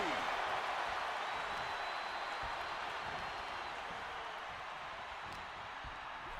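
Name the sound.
crowd applauding in WWE 2K26 video game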